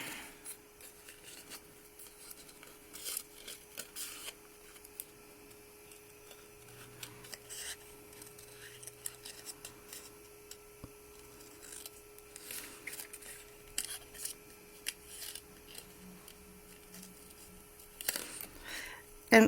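Scissors cutting out a paper poinsettia for a 3D decoupage card: faint, irregular snips and paper rustles close by, scattered across a quiet background with a few louder clips near the end.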